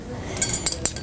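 Metal cutlery clinking inside a picnic cooler, with three or four short bright clinks and rattles spread over about a second against quiet background.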